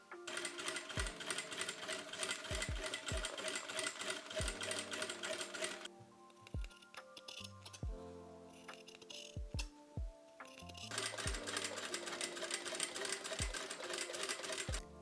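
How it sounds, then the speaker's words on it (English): A sewing machine stitches robe sleeves in two sustained runs separated by a quieter stretch with scattered clicks and taps, fairly soft and close. "now we're gonna make a stitch first from the right side, then fold it over and make a stitch from the wrong side"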